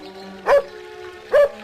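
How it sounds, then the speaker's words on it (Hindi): A dog barks twice, about a second apart, each bark a short sharp burst rising above a steady tonal background with no talk over it. "दूसरे कुत्ते को डराने के लिए वो जैसे ही भौंका,"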